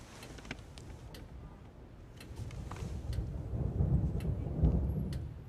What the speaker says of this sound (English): Here's a storm.